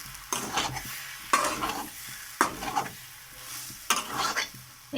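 Grated boiled potato filling for aloo chop sautéed in a pan, with four distinct stirring strokes heard as scraping swishes over a soft, steady sizzle, close up.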